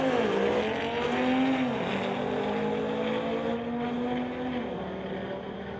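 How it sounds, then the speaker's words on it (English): An Audi and a Mustang drag racing down a strip, engines droning at a distance with rising and falling pitch as the cars shift through gears. "Audi versus Mustang here."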